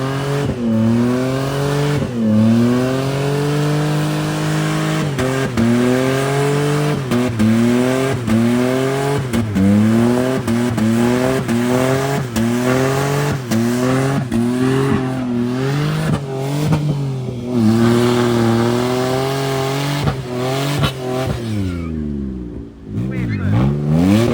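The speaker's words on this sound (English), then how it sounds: "Two-wheel drive Pajero. Well, four wheel, but in rear wheel versus the bog hole." A Mitsubishi Pajero in rear-wheel drive charges through a bog hole, its engine loud and close with repeated rising and falling revs over the whole stretch, easing off near the end.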